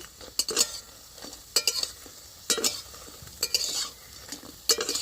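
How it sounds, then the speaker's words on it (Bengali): Drumstick leaf fritters frying in oil, a soft sizzle broken by about six sharp scraping and clinking strokes of a metal spatula against the pan, close by with no speech. "এইভাবেই বড়াগুলোকে ভেজে নেবো"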